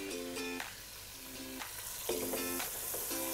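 Onions, about two spoonfuls, fry in hot oil in a pan with a steady close sizzle and soft stirring sounds, and no voices.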